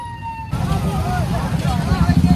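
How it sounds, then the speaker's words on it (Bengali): An ambulance siren wails in repeated rising and falling sweeps. The ambulance is stuck in heavy holiday traffic on a bridge, and a person talks over the loud, close siren. "অ্যাম্বুলেন্সটা আটকে গেছে গাইস দেখতে পাচ্ছ"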